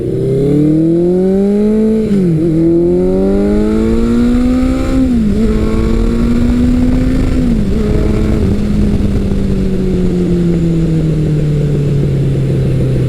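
A 1983 Suzuki GS1100L motorcycle engine roars while riding, loud and close, rising through several gears with brief dips at each shift before settling into a steady, slowly falling drone.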